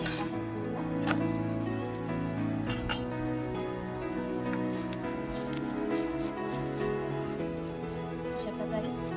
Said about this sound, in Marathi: अशा प्रकारे छानपैकी खमंग अशी पोळी आपल्याला भाजायची आहे